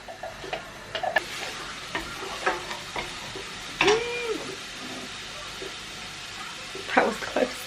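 Onions going into hot oil in a pan on a gas stove while cooking Indian curries, with scattered sizzles, stirring clatter and a few sharp utensil knocks, close and fairly quiet, no talking.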